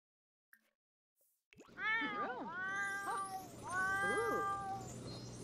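A cat meows repeatedly in The Sims 4, with two or three drawn-out, rising and falling game-voiced meows over steady background music, loud and close after a short quiet opening.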